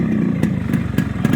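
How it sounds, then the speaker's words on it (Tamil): Yamaha RX100 two-stroke motorcycle engine idling right after an oil change, a close, loud, uneven putter with regular sharp clattering pops about every quarter second, no talk. "இப்போ நான் பைக் ஸ்டார்ட் பண்ணுறேன்."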